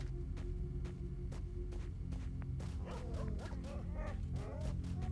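Dogs bark in the video game S.T.A.L.K.E.R. Shadow of Chernobyl: sharp, scattered barks and yelps over a steady low game hum, growing busier and more tonal in the second half.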